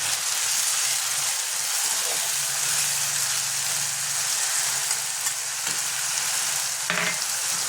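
Spice paste of ginger, garlic, tomato and green chili frying with browned onions in a pan, giving a steady close sizzle throughout with a few light stirring clatters and no talk.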